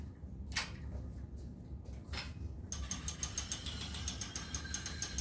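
Pro-Stitcher computerized quilting machine advancing, giving a soft series of clicks followed by a rapid, even ratcheting and whirring of the mechanism, close and moderately quiet.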